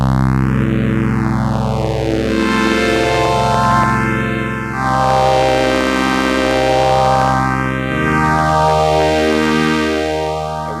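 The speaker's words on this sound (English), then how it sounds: "So I'm going to turn on the phaser first." Suzuki Siel Keyman PK-49 keyboard played with its phaser effect on, held synth tones swept by deep, slow, repeating phaser sweeps rising and falling roughly every few seconds, loud and continuous with no talking.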